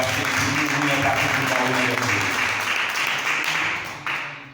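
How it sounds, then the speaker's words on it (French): A church congregation claps and applauds during a French-language service, a dense, continuous burst of hands that holds loud for several seconds and then fades away. "Pas nous applaudissements pour Jésus"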